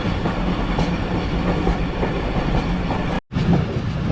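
Khyber Mail passenger train running on rails in Pakistan, a continuous loud rumble with clickety-clack of wheels over track joints, heard from on board, with a brief sharp dropout near the end.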